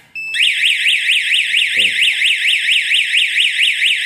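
An FDAS fire alarm control panel (System 816) triggered from a manual call point sounds a loud, steady, rapidly warbling electronic alarm tone that runs continuously after a quick start, with one brief spoken word over it.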